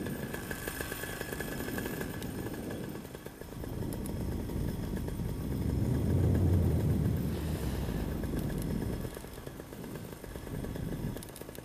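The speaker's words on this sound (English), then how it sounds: "just ease off your motor, go to idle" A paramotor engine on a powered paraglider soaring in high wind near cliffs buzzes raggedly as it is throttled back toward idle, swelling louder around the middle, then dropping and fluctuating amid wind noise, with no talking.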